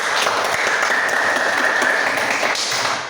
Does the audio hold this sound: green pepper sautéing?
no